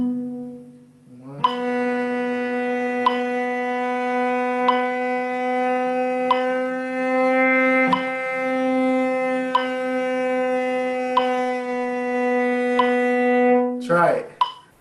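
A single cello note is bowed steadily, pitch creeping very slowly through microtones, sustained and close for over ten seconds with faint bow-change ticks, ending in a brief scrape.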